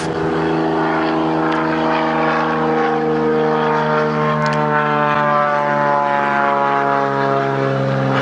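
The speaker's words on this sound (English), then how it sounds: "it's just a plane flying over us" A propeller plane passes overhead during an evening safari drive, its steady droning engine loud and continuous throughout, with layered harmonic hum and no talk.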